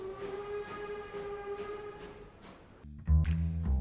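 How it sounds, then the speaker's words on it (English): A train at a station: a sustained whistle-like tone sounds steadily, then gives way near the end to a sudden loud, heavy low rumble. "And so we find ourselves at the train station."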